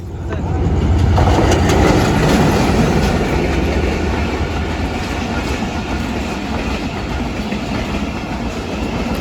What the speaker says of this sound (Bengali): পাশ দিয়ে একদম রেল লাইন চলে গেছে মাঝে মাঝেই এখান দিয়ে ট্রেন যায়